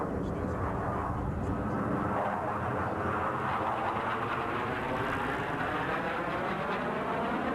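Blue Angels jets fly a vertical looping maneuver at a 1991 military air show at Quonset ANGB, giving a continuous distant roar that swells and rolls, with an announcer's voice over it.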